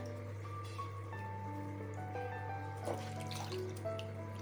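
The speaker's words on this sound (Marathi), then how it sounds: "थोडंसं धुवून घेऊया आपण त्याला।" A raw mango is rinsed under a running kitchen tap, giving a steady, faint stream of water with a low background hum. The sound is close and quiet, with no talking.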